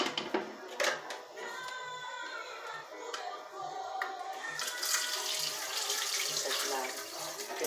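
Tap water runs steadily into a kitchen sink while dishes are washed, a continuous hiss with faint clinks of plates, close and moderately loud, with no talking.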